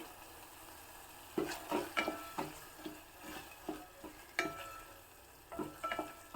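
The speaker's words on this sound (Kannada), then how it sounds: "ಮತ್ತೆ ಒಂದು ಎರಡು ಮೂರು ನಿಮಿಷ ಚೆನ್ನಾಗಿ ಫ್ರೈ ಆಗಬೇಕಿದೆಲ್ಲನೂ ಎಣ್ಣೆಯಲ್ಲಿ" Cut green chillies and coriander leaves frying in oil for a home-style Brahmin recipe, with a soft sizzle under repeated close scrapes and clinks of a spoon stirring against the pan in uneven bursts.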